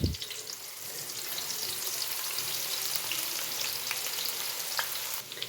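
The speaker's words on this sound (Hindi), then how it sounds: "तेल गर्म हो गया, अब शामिल करेंगे इसमें प्याज।" Chopped medium onion sizzles in hot oil, a steady close crackle that holds evenly throughout, with a few faint stirring clicks near the end.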